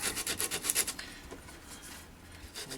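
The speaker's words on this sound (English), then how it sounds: "just a gentle little rub just to take off the edges" Light rhythmic rubbing over the drilled edges of a painted tracker-action keyboard part, a quick series of soft rasping strokes that then tapers into quieter scuffing.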